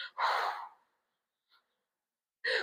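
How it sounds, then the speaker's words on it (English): A long, breathy exhale during a guided breathing exercise, loud and close, followed by a brief pause, a tiny faint breath, and the start of another strong breath near the end. "Breathe in. Extra long. Exhale to release."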